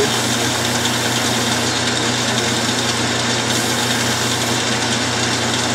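A lathe spins a wheel held by its hub in a three-jaw chuck during polishing, running slightly out of true, giving a loud, steady motor whine and hum that continues without a break.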